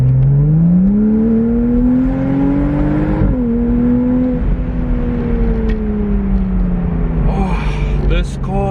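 A 2012 Porsche Boxster Spyder with a 320-horsepower engine climbs steadily in pitch while driving, then settles into a strong, even drone heard from inside the light car, loud and continuous.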